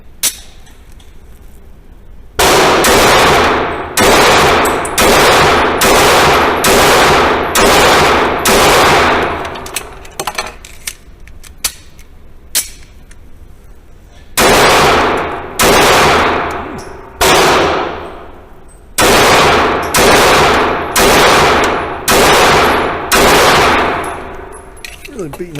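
Remington R51 Gen 2 pistol fired in fast strings, three bursts of about seven sharp, loud, evenly spaced shots each, with brief quiet pauses between strings.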